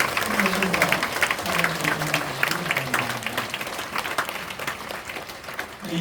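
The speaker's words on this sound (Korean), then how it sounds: "우리 큰 박수로 감사를 드립니다" Church congregation applauding the newly installed honorary deaconesses at an ordination thanksgiving service, a steady broadband patter of many hands throughout, with a voice or sustained tone running underneath.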